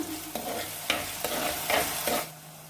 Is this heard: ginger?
yes